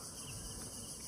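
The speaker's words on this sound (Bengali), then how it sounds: "ঝিঝি পোকার শব্দ" Crickets chirp in quiet rural countryside by a river and dirt path, a faint, steady high trill filling the brief stretch with no voices.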